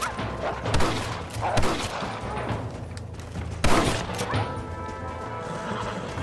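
Gunfire in a Red Dead Redemption shootout, with several loud sharp cracks and bursts scattered across a dense, busy mix of action sounds.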